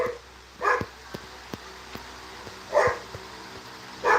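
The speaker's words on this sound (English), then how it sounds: "Yeah, my dog's barking" A pet dog barking indoors, three separate bursts of barks spaced a couple of seconds apart, fairly close and clear over a quiet background with faint clicks.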